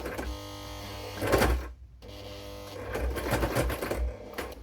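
A sewing machine back stitches along the spine of a handmade A6 notebook, with short bursts of rapid mechanical clatter, a brief pause, then a longer run of stitching, close and moderately quiet.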